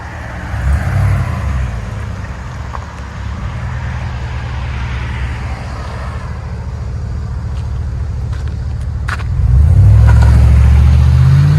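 A 2020 GMC Sierra AT4 pickup with the 6.2L V8 and aftermarket exhaust pulls away: a loud, steady low exhaust rumble close by that swells louder near the end as the truck moves off.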